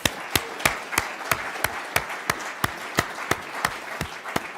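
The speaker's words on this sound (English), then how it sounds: "let's give everyone a round of applause" Audience applause for the staff at a law and economics conference welcome session, broad crowd clapping running steadily underneath, with one nearby pair of hands striking sharply in an even, regular beat on top.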